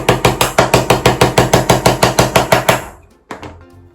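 A hammer drives a nail into wood in a woodworking craft session with a quick, even series of about fifteen sharp, loud strikes, then a pause and a couple of lighter taps and rattles.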